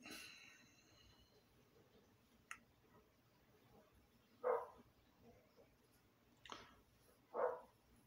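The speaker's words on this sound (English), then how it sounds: "that's just my dog outside" A dog barks outside in two faint, muffled bursts a few seconds apart, far off against a quiet room.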